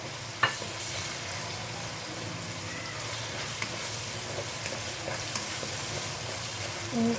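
Ginger and green chilies fry in a pan with a steady, dense sizzle that holds at an even level throughout, broken by a few soft knocks from stirring.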